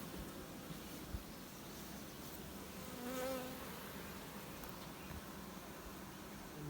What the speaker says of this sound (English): the bees are starting to move back up here.